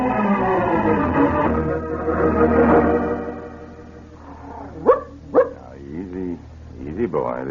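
Dog barking in an old radio drama scene, a few sharp barks toward the end following a stretch of talk and background hum.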